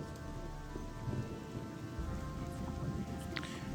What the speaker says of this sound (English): Oh, it's raining already.